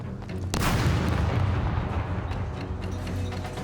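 Heavy gunfire during a raid in the survival video game SCUM, a loud sharp shot followed by a dense, rumbling roar of continuous firing and echoes, with no talking.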